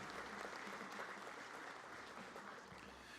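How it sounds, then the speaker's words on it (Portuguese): Applause at a formal solemn session in a legislative chamber honoring Navy Day: a faint, distant, steady wash of many hands clapping throughout. "Uma salva de palmas a todas estas autoridades."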